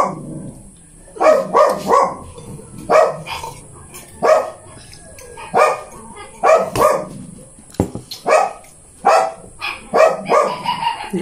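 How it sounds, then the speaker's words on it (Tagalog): A dog barks repeatedly near a family home, loud sharp barks in irregular bursts of one to three, sometimes with growling, continuing throughout. "May aso."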